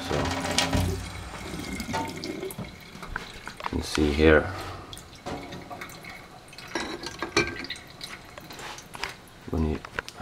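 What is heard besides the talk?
acidic water pouring from Panasonic water filter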